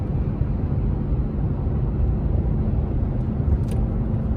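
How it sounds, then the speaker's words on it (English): A Toyota Tacoma pulls a small RV uphill on a highway, its engine a steady, even low drone mixed with road and wind rumble, with no break or strain throughout. "You can hear no struggle with the engine."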